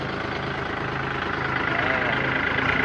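A Kubota L3218SP tractor's diesel engine runs loudly close by, its steady rumble rising slightly as the throttle opens.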